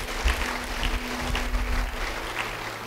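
A church congregation claps during a sermon, a moderate, continuous spread of many hands with a low hum lingering beneath.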